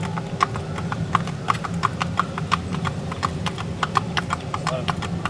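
A gaited horse's hooves striking the ground in a steady, even rhythm, crisp repeated clip-clops close by over a low background hum.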